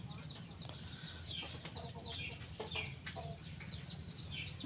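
Native chickens cluck steadily, close by and fairly soft, amid outdoor background noise on a farm.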